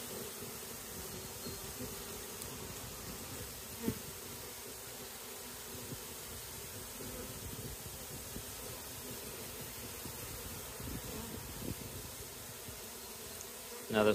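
A honey bee swarm pours out of its hive in the morning, making a dense, steady buzzing drone that fills the whole stretch, close and even, with no talk.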